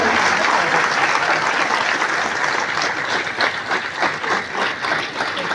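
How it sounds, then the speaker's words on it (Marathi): A crowd applauds loudly at a ceremony honouring actor Ashok Saraf, sustained clapping that grows more rhythmic toward the end, with faint voices mixed in. "टाळ्यांचा जोरदार गजर"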